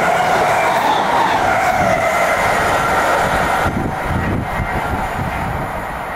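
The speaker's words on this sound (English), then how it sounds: "Another fly through in platform 2, this time by 321." A Class 321 electric multiple unit runs through a station platform at speed, a loud, continuous rushing roar with rumbling wheels that eases slightly toward the end.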